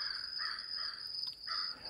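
Crows cawing near a creek: a few harsh caws repeat in short bursts against a steady high insect drone, moderately distant and with no one talking.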